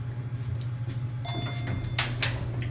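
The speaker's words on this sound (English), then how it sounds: "Door closing back." A Westinghouse hydraulic elevator door at a Macy's store in Ross Park Mall, Pittsburgh, slides shut with a steady low hum, a faint tone and a couple of clunks near the end, close by with no talking.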